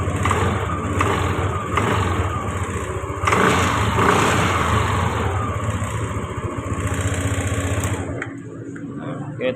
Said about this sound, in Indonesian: kita gas ya, coba kita gas.